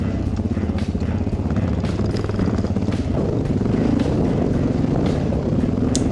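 Enduro motorcycles, a Suzuki DR650 and a Yamaha WR450, ride single trails with a steady, loud engine drone that rises and falls slightly over several seconds and never lets up.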